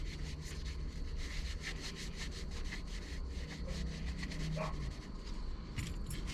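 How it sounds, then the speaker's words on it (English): A cloth dampened with rubbing alcohol is wiped back and forth across a truck surface, giving a steady, close rubbing swish with a regular stroke rhythm throughout and no talking. "I'm probably just gonna wipe down this as well with the rubbing alcohol."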